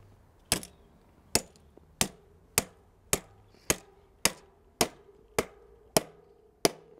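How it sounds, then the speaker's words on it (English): A star nut is hammered into the fork of a new bike in about ten sharp, evenly spaced metallic strikes, each ringing briefly before the next. "The star nut smash."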